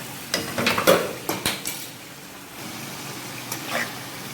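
Shrimp karahi being stirred and fried in a pan, with a metal utensil clinking and scraping against the pan in quick bursts over a faint background sizzle; no talking.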